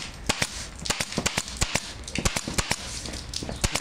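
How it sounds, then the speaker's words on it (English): Heavy-duty staple gun driving staples through tough plastic sheeting into a frame for a projection screen, a rapid run of sharp, loud snapping clacks, about a dozen in under four seconds, close by with no talk. "Now, you're not gonna have a staple gun like this."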